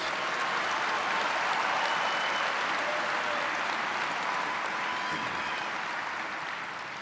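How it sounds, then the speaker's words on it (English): Sustained applause from a large audience at a high school commencement ceremony, honoring performers and speakers; a dense, steady wash of clapping that holds strong for the whole stretch and tapers slightly at the end. "How about one more round of applause for our talented performers and speakers?"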